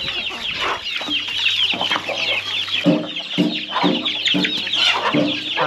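A close flock of chicks chirps and clucks continuously while drinking water at a farm in the rainy season, their high peeps overlapping in a busy, loud chatter.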